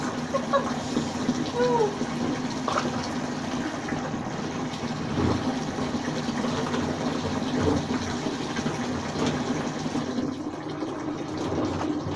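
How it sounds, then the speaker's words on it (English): Running water rinses detergent out of laundry by hand, a steady close splashing and pouring that lasts throughout, with a few light knocks and handling sounds. "I'm just rinsing everything because they were dirty with the detergent, and that would soak all into the clothes"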